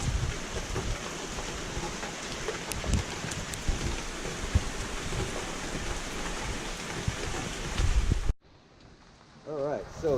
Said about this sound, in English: the rain's starting to come down a little bit harder